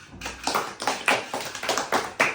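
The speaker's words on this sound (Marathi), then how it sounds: "टाळ्या वाजव रे आबीसाठी" A short burst of hand clapping, about seven or eight quick claps in a loose, even rhythm, close and moderately loud.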